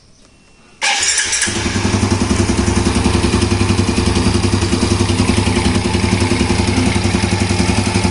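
A motorcycle engine cranks and catches after a second of near silence, then settles into a loud, steady, rapidly chugging idle.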